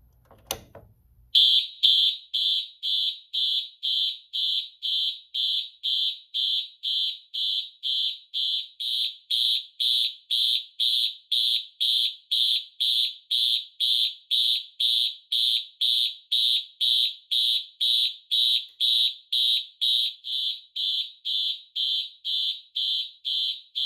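Simplex horn strobes on a 4009 TrueAlert addressable controller sound a march-time coded fire alarm, loud, evenly pulsed horn blasts repeating rapidly and steadily after a brief click at the start.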